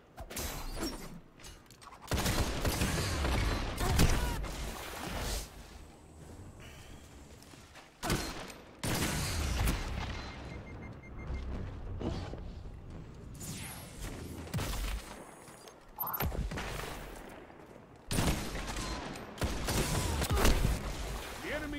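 Bursts of rapid gunfire from a first-person shooter video game come in repeated loud volleys with mechanical clacks between them, some shots dense and sustained, others short.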